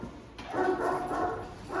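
A female dog being trained with a toy gives a short bark or yelping whine, fairly loud and close, lasting about a second and a half.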